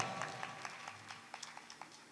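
Faint, scattered audience applause at a gathering, sparse individual claps standing out over a light background wash, fairly distant and brief.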